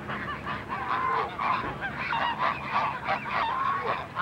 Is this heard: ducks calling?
yes